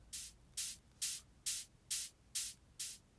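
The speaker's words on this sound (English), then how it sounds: "So I've added this white noise. The envelope is really short. I've used a high pass filter to sweep away any mids or lows." Seven short bursts of high-passed white noise from a Serum synth, very short envelope with mids and lows removed, repeat in an even rhythm, crisp and airy like hi-hat hiss.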